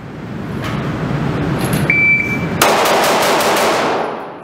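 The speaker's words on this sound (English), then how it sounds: "Second shot was slow." Pistol fire at an outdoor shooting range: a sharp, loud report cracks out near the end, followed by a broad burst of echoing noise, with a steady background rumble throughout.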